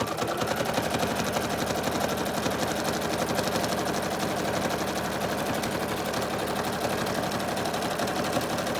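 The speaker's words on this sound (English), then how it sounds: "I will regret this because my bobbin will run out really quick doing this very close stitching" Sewing machine doing very close stitching on fabric, a fast steady needle rattle running continuously at moderate loudness with no talk.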